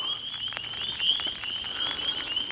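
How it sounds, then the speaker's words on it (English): Spring peeper frogs calling at a MetroPark wetland, a chorus of thin high peeps repeating from a distance over soft outdoor background noise. "I'm hearing all the spring peepers calling too."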